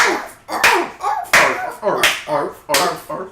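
Hands clapping in imitation of a seal, four sharp close claps spaced in an even beat, each followed by a voice talking in between.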